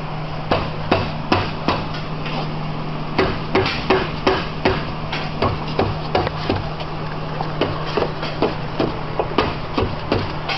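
Metal hammer blows knock a stuck part loose from a Ford Focus front-wheel-drive transmission, evenly spaced sharp strikes repeating about every half second over a steady low hum.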